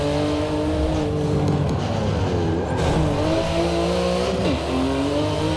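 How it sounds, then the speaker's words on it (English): Car engine in the Forza Motorsport 7 racing game, droning steadily as it echoes through a tunnel, with the pitch sliding and wavering as the car shifts and revs, and faint tire noise underneath, continuous and fairly loud with no talk. "we definitely have that engine sound of going through the tunnel"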